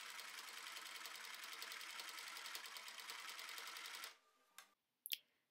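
A sewing machine runs fast and steady, stitching down the middle of a T-shirt seam with a dense, even whir for about four seconds, then stops with a couple of faint clicks.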